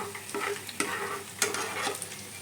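Boondi batter balls fry in hot oil with a steady, close sizzle, broken by a few sharp clicks and scrapes of a utensil stirring through the pan.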